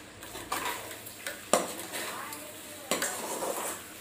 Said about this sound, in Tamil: இதை வந்து நல்லா மிக்ஸ் பண்ணிக்கணும்.